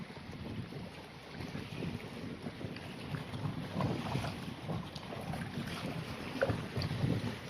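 Strong stormy wind gusts over the open sea off Gumaca, Quezon, a steady roaring rush with buffeting on the microphone, swelling louder toward the end, with no voices.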